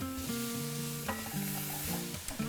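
Onions and celery sizzle in olive oil in a pot for an Ikarian Greek giant bean stew, a soft continuous hiss of frying beneath a louder stepping melodic tone, without speech.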